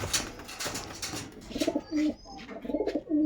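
Pigeons of the gola line breed cooing close by, a series of low throaty rolling coos repeating in quick bursts, with a few faint chirps in the background.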